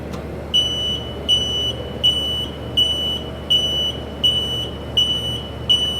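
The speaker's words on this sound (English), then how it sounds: "you're going to see that the alarm will go off" A Lunaire CEO910-4 temperature chamber alarm beeps in a steady, repeating pattern, eight short high-pitched beeps spaced evenly over a low background hum.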